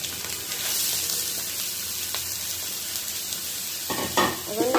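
Chopped onions and potato pieces frying for khichuri, giving a continuous close sizzle and hiss that grows more agitated near the end as the pan is stirred and scraped.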